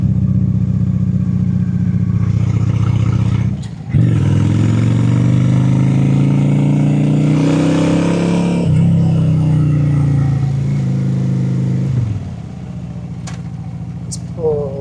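A Honda Shadow 750 Spirit cruiser motorcycle accelerates hard on a road. The close engine note climbs in pitch, drops briefly at a gear change, then climbs again before easing off.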